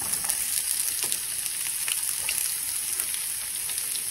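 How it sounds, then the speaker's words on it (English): Chopped onions fry and splatter in a hot pan for Mongolian beef, a steady, bright sizzle with fine crackling pops running throughout, close and even with no talking. "So you're going to add those to your pan. Be careful, it's going to splatter."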